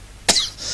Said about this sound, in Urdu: سوری مجھے جو کھانسی ہوئی ہے